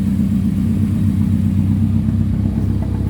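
A Banham kit car engine idling steadily right after starting, a loud, close, even low rumble with no voices.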